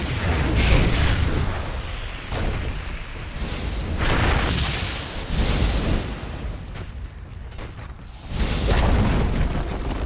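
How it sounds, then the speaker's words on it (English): Booming explosions roll through a Dota 2 match as the Dire's top tower comes under attack, several heavy blasts and rumbling bursts layered over continuous battle noise, loud and close. "Dire's top tower is under attack."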